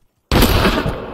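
A live grenade blasts in a video game, one sudden loud burst after a brief silence that then rumbles and fades slowly.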